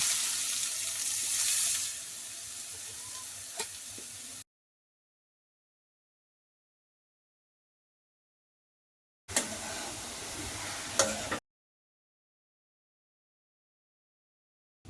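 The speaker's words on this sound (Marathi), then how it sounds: "किसून घेतलेलं गाजर टाकूया।" Grated carrot and chopped dry fruits sautéing in a hot pan for gajar halwa, a soft steady sizzle for about four seconds, then silence, then another brief sizzling burst.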